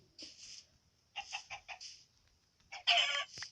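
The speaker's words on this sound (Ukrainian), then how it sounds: "Ох, курочка, курочка." A Minecraft chicken gives several short clucks in bursts, fairly close and clear, with quiet stretches between the calls and no speech.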